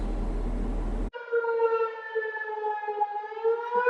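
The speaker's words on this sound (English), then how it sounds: "The siren going off." A dam's civil defense warning siren wails steadily and loudly at 3:30 a.m. at Lake Tahoma Dam after an abrupt cut from a burst of noise, its long rising tone sustained and slightly wavering.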